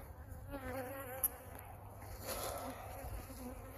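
Honey bees swarm around 10-frame hive boxes outdoors, making a soft, continuous buzz with individual insects droning past now and then. The sound stays fairly faint and even.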